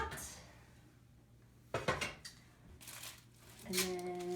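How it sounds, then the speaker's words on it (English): Metal pot lid lifts off a pot with a few sharp clanks and scrapes, close and clear, separated by short quiet gaps, with a ringing metallic clatter at the end. "I'm gonna take the lid off of the one in my pot."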